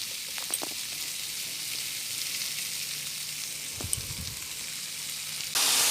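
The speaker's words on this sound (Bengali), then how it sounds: "এখানে আমি ভাজাটা বসিয়ে দিয়ে ছাদে যাচ্ছি।" Sliced ivy gourd (kundri) fries with browned onion in a pan, a steady close hiss of oil with a few light clinks and pops, and no voices.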